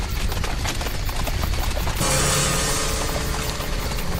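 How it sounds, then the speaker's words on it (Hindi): Horses' hooves from a nearby village clip-clopping in a dense, busy clatter, shifting to a brighter, noisier wash partway through, with no talk. "वो पास के ही गांव के घोड़े हैं।"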